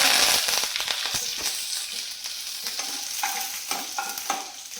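Mustard seeds and curry leaves crackling in hot oil, a dense close sizzle studded with sharp popping bursts that loudly open the sound, then settle into steadier frying with scattered crackles.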